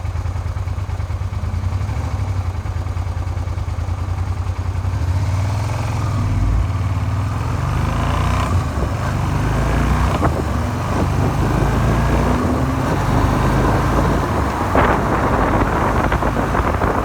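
A Suzuki SV 400 motorcycle with a knocking crankshaft runs on the road, its engine a continuous low rumble mixed with heavy wind buffeting on the microphone, with no voices.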